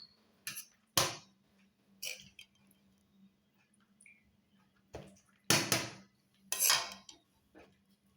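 Dishes and cutlery clink in separate bursts as vegetable biryani is served onto plates, with a handful of sharp metallic clatters spaced out over a quiet kitchen background.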